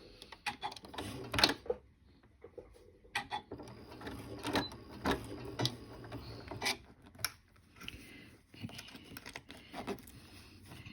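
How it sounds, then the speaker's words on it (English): A sewing machine stitching a fabric pouch, heard as quiet, irregular bursts of mechanical clatter with short pauses between runs of stitches. "I want to start sewing at that 3/8 mark."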